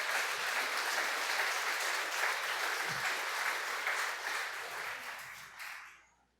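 A church congregation applauds in praise, a dense, sustained round of clapping at steady volume that tapers off near the end.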